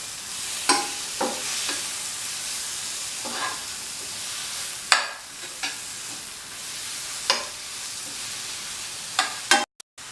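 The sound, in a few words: stirring chili powder masala in a frying pan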